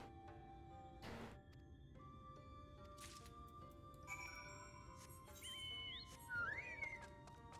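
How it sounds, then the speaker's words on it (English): A character whistles in the video game Final Fantasy XIV, giving a few short rising and falling whistled notes over a soft game soundscape with scattered chimes and plucked tones. "Once you have a likely spot, all you need to do is whistle."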